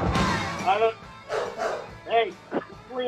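An excited dog barks and yips in several short bursts, loud and close, mixed with voices talking over a phone line.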